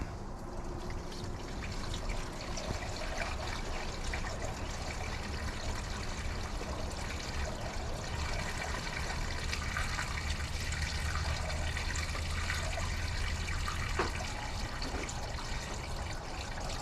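Coolant pours steadily into a 7.3 Power Stroke diesel engine, a continuous gurgling, trickling flow of liquid that runs unbroken at even, fairly close volume with no talking.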